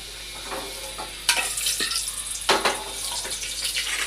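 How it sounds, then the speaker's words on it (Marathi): Asafoetida and garlic hit hot oil in a pan and sizzle, a steady crackling fry with sharper bursts of spitting and stirring scrapes, close and clear with no talk. "हिंग आत्ता हिंग टाकलाय त्याच्यामध्ये लसूण लसूण टाकलं"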